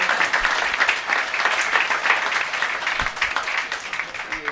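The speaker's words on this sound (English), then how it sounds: "big Support. clap for yourselves." Dense, steady applause from a convention audience fills the room for several seconds, loud and continuous with no voices rising above it.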